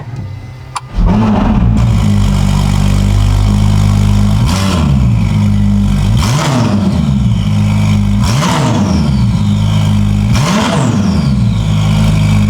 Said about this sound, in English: Now let's hear what this exhaust sounds like.